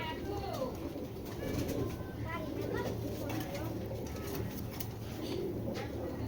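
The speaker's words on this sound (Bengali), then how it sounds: "মানে এগুলো থরের কবুতর, মানে খাঁচার কবুতর" Caged Giribaz pigeons coo repeatedly, with rolling, throaty calls rising and falling close by, and someone talks over the steady cooing.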